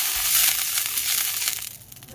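A brush spreads an oil and water mixture over the surface of a kadai, a cooking pan being readied for chitoi pitha. The result is a steady, fairly loud swishing hiss that runs without a break and with no talk over it.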